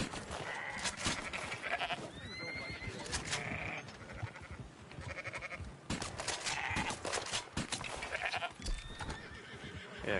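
Several sheep in Red Dead Online bleat repeatedly in overlapping calls, fairly close, over a steady background hum of game ambience.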